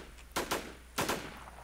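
Gunfire in the online survival shooter War Z: four loud, sharp gunshots in two quick pairs, each pair a fraction of a second apart, rising above a low steady background with no talk.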